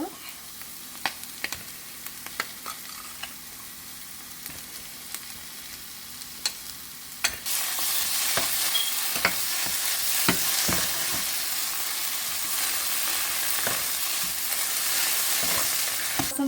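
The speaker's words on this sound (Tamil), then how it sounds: "இந்த சில்லி பேஸ்ட்டை வந்து நல்லா வதக்கிட்டு" Chilli paste sizzles and sautés in a pan for Sri Lankan-style seafood nasi goreng, a steady frying hiss that grows much louder midway, with scattered clicks and scrapes of stirring throughout.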